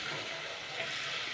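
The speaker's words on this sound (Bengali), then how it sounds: "এবার আমি এতে জল দিয়ে দেবো" Water pours into spice masala in a pan for a milk-free Kashmiri paneer curry, making a soft continuous rushing splash with a faint rise partway through.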